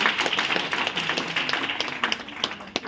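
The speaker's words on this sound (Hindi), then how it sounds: "अगर आपकी इच्छा लगे, आपके मन में विचार आए तो ताली बजा लेना" Scattered clapping from an audience at a business plan presentation, uneven and moderately loud, with a few distinct sharp claps near the end.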